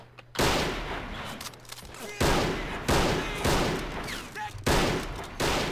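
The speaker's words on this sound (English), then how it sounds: "So this guy does have a machine gun." Bursts of MG 42 machine gun fire in the World War II strategy game Men of War Assault Squad 2, several loud rapid rattling volleys separated by brief pauses, with distant battle noise between.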